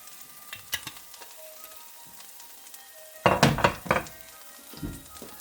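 Olive oil sizzling in a pan while cooking stew chicken with squash, a light crackle punctuated by sharp spatters and a loud burst of sizzling stirs partway through, close up and with no talk.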